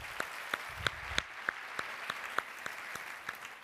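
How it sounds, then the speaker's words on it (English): Applause from a conference audience at a women's leadership event, with steady, fairly soft clapping and sharper individual claps standing out at a regular rhythm throughout. "another round of applause for them"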